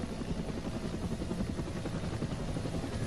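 Steady rotor thump and turbine whine from a helicopter, continuous and moderately close, with no talking.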